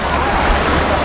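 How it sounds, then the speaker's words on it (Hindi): Artificial waves churn in the wave pool of a large Gujarat water park, making a steady, loud wash of water that holds at one level for the whole moment. "अब हम चलते हैं इसके अंदर और समुंदर की लहरों की एंजॉय करते हैं हम"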